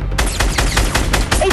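Gunfire in the video game Fortnite, a rapid burst of shots in quick succession, loud and close, filling the whole short moment.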